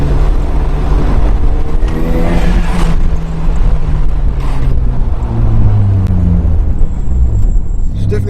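A rotary engine in a 1996 Mazda RX-7 FD3S with a widebody kit drones and rumbles loudly on a road test drive, with shifting engine tones under ongoing talk inside the car.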